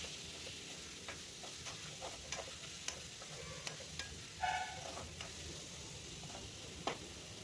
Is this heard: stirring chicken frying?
yes